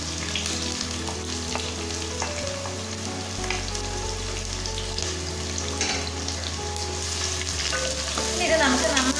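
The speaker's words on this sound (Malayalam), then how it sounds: "ഇനി ഞാനിതിലേക്ക് സവാള ചേർത്ത് കൊടുക്കാം." Sliced onions sauté in hot oil with spices for a Kerala-style chicken curry, giving a steady, close sizzle with scattered stirring scrapes that grows slightly busier near the end, with no talking.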